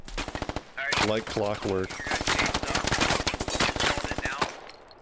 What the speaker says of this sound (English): Alpha's taking a shot at him